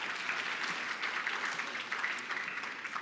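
An audience at a pitch night claps in steady, moderately faint applause that continues evenly throughout, with no talk over it.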